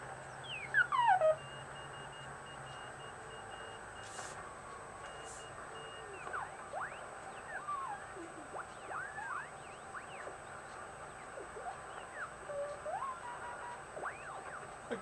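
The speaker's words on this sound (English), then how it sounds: "that's what the HW8 sounds like with the narrow audio filter kicked" Morse code CW signals coming through a Heathkit HW-8 vintage QRP transceiver with a narrow audio filter engaged, thin keyed tones over steady receiver hiss and crackle, one stronger burst near the start and fainter keying after it.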